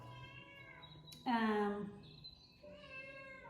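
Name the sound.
cat meowing, wanting to come in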